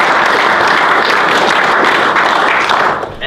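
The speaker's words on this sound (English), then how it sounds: "So if you get a round of applause." A round of applause from the audience at a hockey club prizegiving, dense loud clapping sustained for about three seconds before starting to thin out.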